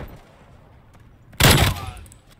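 A short, loud burst of rapid gunfire bursts out of quiet background noise during a hardcore team deathmatch in a multiplayer shooter, then fades back to a low hum.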